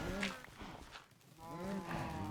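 Cows mooing in the Wood Age video game inside an auto cow farm pen, several drawn-out moos overlapping close by, with a quieter dip in the middle before the lowing rises again.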